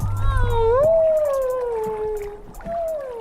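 Whale calls heard through a hydrophone: long, sliding tonal calls rise and fall in pitch, eerie and howl-like, over a low rumbling background.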